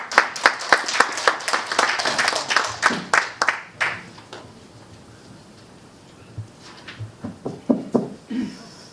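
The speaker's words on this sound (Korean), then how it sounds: "뜨거운 박수 부탁드리겠습니다." An audience at a leadership academy lecture applauds to welcome the speaker, with a burst of clapping that fades out, then a few scattered claps near the end.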